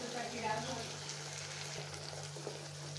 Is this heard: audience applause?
no